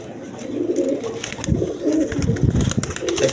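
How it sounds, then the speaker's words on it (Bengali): Low, repeated cooing from spotted pigeons sounds close and continuous in a crowded loft, with faint fluttering and shuffling over the steady murmur. "ছটপড়া কবুতর"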